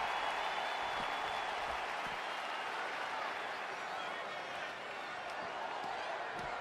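Steady crowd applause and cheering from an arena audience during a women's tag team title match in the wrestling video game WWE 2K20, a continuous dense wash of noise throughout.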